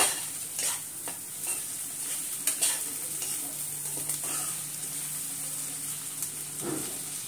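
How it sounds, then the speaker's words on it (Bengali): Prawns and onion frying with spices for a taro-stem curry: a steady sizzle close by, with a few scraping stirs and clinks of a spatula against the pan. "পেঁয়াজটা ভালো করে ভেজে নিব"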